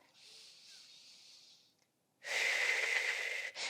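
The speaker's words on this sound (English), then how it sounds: "I want you to take another inhale here." Deep, slow breathing during a pelvic floor relaxation exercise: a soft, airy inhale followed after a brief pause by a louder, rushing exhale, heard up close with no talking.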